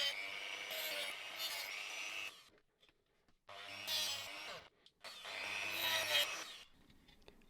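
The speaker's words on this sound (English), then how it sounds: "So I'm going to have a little go with this Dremel now," A Dremel rotary tool cuts into a small plastic battery cover piece, a bright high-pitched whining grind in three bursts separated by short pauses, close and loud with no talking.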